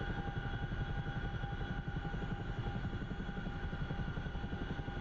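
A CH-47F Chinook in the DCS flight simulator hovers with a steady, droning rotor thump and engine whine, continuous and moderately quiet with no talk over it.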